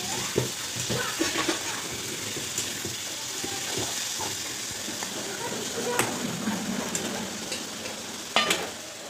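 Water sprinkled over pea pods frying in a pan on a low gas flame, giving a steady close sizzle and hiss with scattered sharp pops and crackles throughout.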